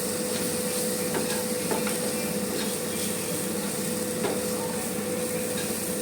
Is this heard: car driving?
no